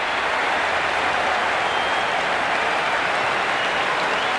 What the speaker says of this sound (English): the excitement emanating from this crowd at the moment